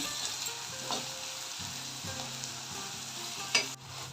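Turmeric, chilli, coriander and Kashmiri chilli powders with ginger-garlic paste sizzling in hot oil alongside tomato and green chilli, a steady crackling fry broken by a few scraping stirs and a sharp clatter near the end.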